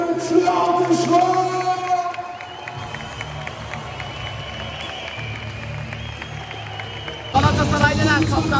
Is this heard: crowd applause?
yes